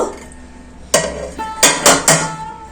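A metal lid comes off a pot of pulao made with khoya kheer, giving several sharp clanks and clatters of metal on metal close by, three in quick succession near the end, over a quiet background with no voices.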